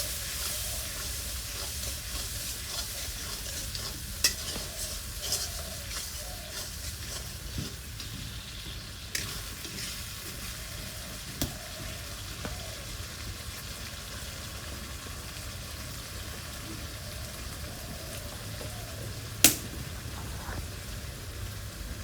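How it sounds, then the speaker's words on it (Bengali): Ground mustard, green chili and ginger paste frying in a pan and being stirred, giving a soft, steady sizzle with occasional faint scraping clicks and no talk. "দু মিনিট কষে নেবো ভালো করে"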